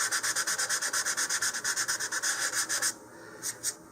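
Rhythmic back-and-forth rubbing of abrasive against a model rocket body tube for a Rocketarium VK-7 Viking, roughening the spot for the launch lug; steady close scratchy strokes, then a pause and two final short rubs.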